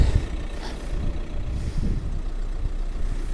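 A 2012 Seat Altea XL engine idles steadily with a low, continuous rumble, started with keyless access and heard up close without talking.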